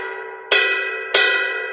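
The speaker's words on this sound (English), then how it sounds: "The ride cymbal or the bell of the cymbal" Two bright, ringing strikes of a drumstick on the bell of a ride cymbal, evenly spaced, each a sharp attack followed by a sustained metallic ring that overlaps the next, close and loud.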